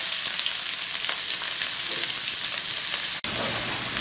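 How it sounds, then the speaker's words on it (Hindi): Steady, hissing sizzle of chopped onions frying in a hot pan, continuous and close, with faint crackles and a brief dropout near the end. "अब इसमें प्याज शामिल करूँगा प्याज को मैंने चॉप कर लिया था"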